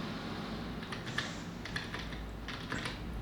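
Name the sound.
pressing Delete key on computer keyboard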